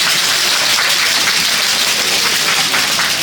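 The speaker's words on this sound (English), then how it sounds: "so let's give them a round of applause as well." A crowd applauds at a Wawa store grand opening in Mount Washington, Kentucky, a loud, dense, continuous clapping that holds steady from start to finish.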